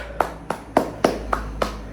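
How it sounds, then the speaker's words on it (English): Six crisp single hand claps, evenly spaced about a quarter second apart, made by one person during a yoga and breathwork exercise. The claps are close and clear over a quiet room. "Clap,"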